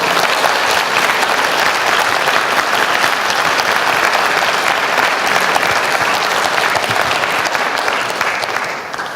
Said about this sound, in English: I ask you to do it now with a big round of applause.